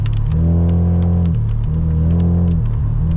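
A Mazda RX-7 FC3S rotary engine on a mountain touge road at night: a loud, close in-cabin drone that holds steady, then dips and climbs again as it revs through gear changes.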